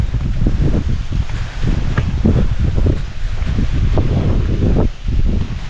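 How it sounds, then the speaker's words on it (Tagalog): Strong wind sweeps across a corn field, a loud, gusty rumble with buffeting on the microphone, continuous with brief dips and rustling of leaves. "Tapos sobrang lakas ng hangin."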